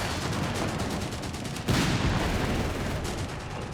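6-pounder and 2-pounder anti-tank guns fire repeatedly in the war strategy game Company of Heroes 3, rapid sharp reports amid dense battlefield gunfire, with one heavier blast standing out partway through.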